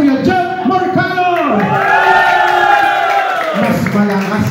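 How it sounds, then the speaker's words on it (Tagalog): A crowd at a Thanksgiving party cheers and whoops loudly for Kuya Jeff Marcano, a sustained mass of voices swelling and holding, with an announcer's voice over it at the start. "Mag-ingay para kay Kuya Jeff Marcano!"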